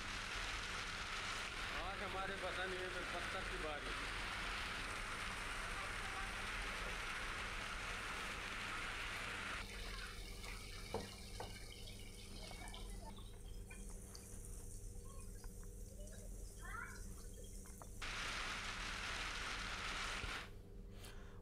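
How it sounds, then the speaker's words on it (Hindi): Heavy rain with hail falling during a storm in Madhya Pradesh, a steady, even wash of noise that runs throughout at moderate distance, with a voice speaking over it. "भारी ओलावृष्टि हुई है, बारिश भी हुई है"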